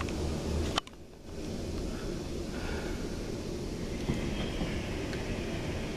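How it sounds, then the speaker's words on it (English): A Pendolino train rolls into a station with a steady, loud rumbling roar and a sharp clank near the start, continuing as an even mechanical hum without speech. "Hello, fluffy white Pendolino."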